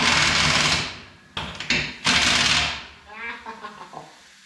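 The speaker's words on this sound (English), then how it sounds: "I love the big air impacts. I just like the way they sound, they're fun to use." Air impact wrench bolting a hitch plate onto a Peterbilt truck, several loud bursts of hammering rattle with short pauses between them, close by and up front, fading into quieter clanks at the end.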